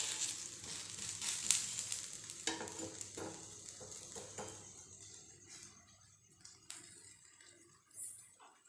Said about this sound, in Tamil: சரி தோசைக்கல்ல ஊற்றிடலாம் அப்படின்னு தோசைக்கல்ல ஊற்றுறோம் ஃப்ரெண்ட்ஸ்